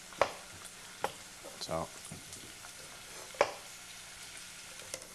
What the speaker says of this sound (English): we got the onions on high